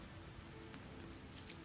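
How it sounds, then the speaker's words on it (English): Rain falls in the No Man's Sky game world, a faint, steady hiss of downpour with a few soft droplet ticks, quiet and without speech. "It's kind of hard to see because it's raining a lot."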